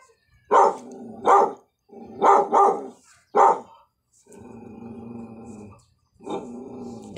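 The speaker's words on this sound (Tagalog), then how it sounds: "Ang ingay ng aso." A dog barks sharply several times in quick pairs, then growls low and steadily before a final bark, close and loud.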